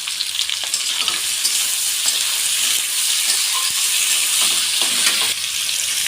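Ginger-garlic paste sizzles steadily in hot oil, a dense continuous frying hiss with occasional stirring scrapes, close and loud, with no voices.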